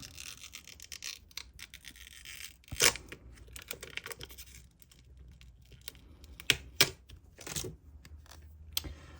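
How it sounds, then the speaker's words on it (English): A sticker's backing is peeled away by hand during resin Christmas truck bauble crafting, giving a few sharp tearing rips near the mic, the loudest around the third and seventh seconds, with small crinkles and taps between. "Peel that back. And leave the sticker behind, hopefully."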